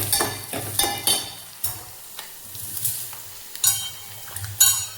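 Potato, onion and vegetables frying in a pan, giving a steady close sizzle with repeated stirring scrapes and occasional utensil clinks throughout.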